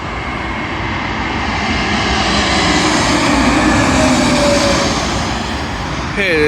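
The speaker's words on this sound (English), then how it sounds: "Arriving in now is a Swiss Airbus A321neo from Zurich" A Swiss Airbus A321neo from Zurich lands on Heathrow runway 27L, a loud, close, continuous engine roar that builds slightly in the middle, with a short sharper noise right at the end.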